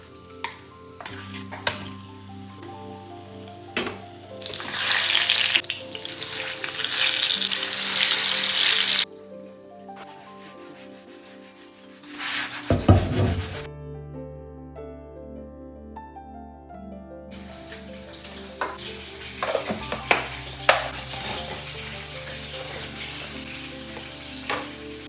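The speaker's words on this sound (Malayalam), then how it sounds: "ഇനിയിപ്പോൾ ചിക്കനും കൂടി ഒന്ന് ഫ്രൈ ചെയ്തെടുക്കുകയാണ്." Chicken fries in a kadai in bursts of loud sizzling that start and stop as pieces are added and stirred, with quieter clinks and kitchen sounds between.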